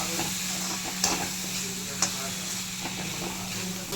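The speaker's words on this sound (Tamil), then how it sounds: "இந்த ஸ்டேஜில் நம்ம வேக வச்சுருக்கிற மட்டனை போட்டுடலாம்." Boiled mutton stirred into a frying onion-tomato masala for pepper mutton gravy, a steady close sizzle and hiss with a couple of sharp scraping clinks as the pan is stirred.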